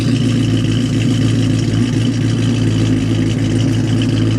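Steady, loud exhaust rumble from a Dodge fitted with Karnage long body mufflers, a deep even idle drone throughout with no talking.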